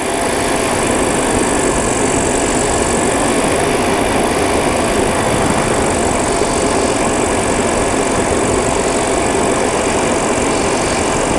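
A paramotor engine runs nonstop at an airfield fly-in, a loud, steady, high-pitched buzz close by with no break or change in pitch.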